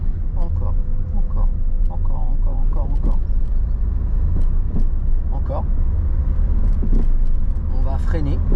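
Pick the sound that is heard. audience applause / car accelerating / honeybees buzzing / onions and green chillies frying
car accelerating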